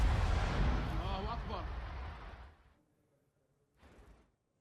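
Explosions from an Israeli military strike on Hezbollah positions: a loud sustained rumbling blast for about two and a half seconds, then near-silence, followed by a second shorter, fainter burst.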